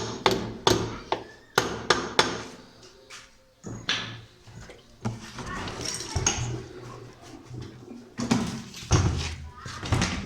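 Sharp metal hammer blows loosening a part on an automatic washing machine during gear replacement, several close, loud strikes in uneven bursts with clattering in between, and someone speaking at moments.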